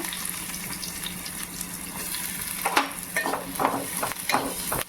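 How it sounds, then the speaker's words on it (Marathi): Chopped onion and garlic fry in a pan as the base for a Maharashtrian prawn curry, giving a steady close sizzle with scraping stirs growing busier toward the end. "तर कांदा आपण व्यवस्थित गुलाबी करून घेऊया थोडं"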